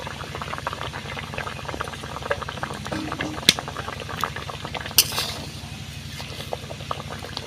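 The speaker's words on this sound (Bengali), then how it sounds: "আলুটা ভালোভাবে সিদ্ধ হয়ে গেছে" Potatoes boiling in a pot of water, a steady bubbling churn with a few sharper clinks and pops near the end, close and moderately loud.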